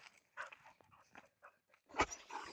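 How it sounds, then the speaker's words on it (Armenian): A dog barks and whimpers from a window, short scattered yelps and vocal bursts building to a louder bark near the end, fairly close, with no talking. "Պատուհանից հաչալով"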